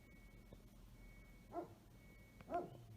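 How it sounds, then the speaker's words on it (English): Two short barks from a big dog, a second apart, fairly distant over quiet outdoor ambience among pine trees in Sardinia. "Oh, there's a big dog there."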